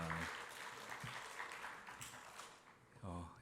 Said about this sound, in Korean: 박수로 우리 격려하겠습니다